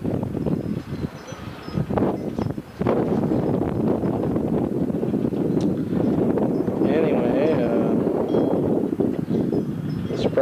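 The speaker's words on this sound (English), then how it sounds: "It's a little windy today." Wind blows against the microphone with a low, uneven rumble while a person talks over it.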